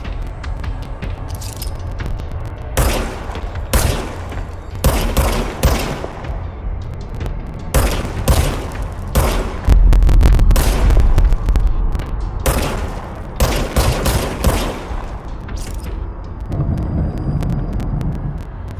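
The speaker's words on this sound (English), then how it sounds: "बढ़िया गन है, जिसमें कोई बैरल नहीं है, बस अपने आप फायर कर सकती है।" Automatic gunfire from a barrel-less weapon in the video game Control, loud bursts of rapid shots repeating across the clip with short pauses between volleys and a heavy low rumble underneath.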